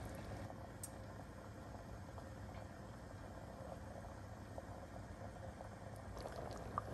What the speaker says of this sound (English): You see it boiling?